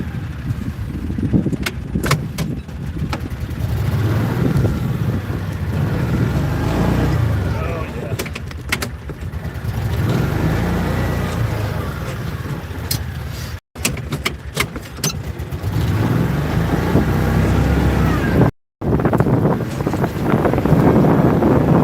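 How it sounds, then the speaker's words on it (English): A vehicle driving up a hill on a ranch, with a steady engine and road rumble close by, plus wind buffeting and occasional rattles, and speech heard at times over the noise. "let's drive up here on this hill really quick."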